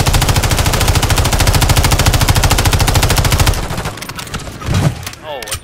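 Rapid automatic gunfire in the Warzone battle royale video game, a dense, loud, evenly spaced burst lasting over three seconds, then scattered shots and whooshing effects as a voice speaks briefly near the end.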